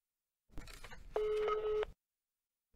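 A run of clear, steady touch-tone beeps follows a brief burst of rustling noise, then cuts off into silence as a phone number is dialed to place a call.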